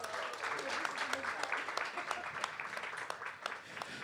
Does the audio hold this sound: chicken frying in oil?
no